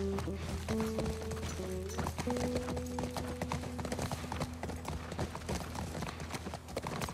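Rapid, rhythmic hoofbeats of a galloping horse in the video game The Last of Us Part I, steady and close, with sustained musical tones and occasional game sounds layered underneath.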